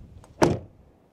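A single solid, heavy door thud from a Toyota Land Cruiser 250 as it shuts, close and short, with a faint click just before and a quick decay afterward.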